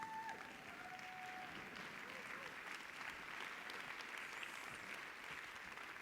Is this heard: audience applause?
yes